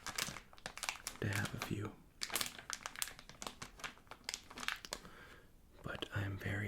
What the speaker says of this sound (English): a nice bit of sound as I'm opening the cards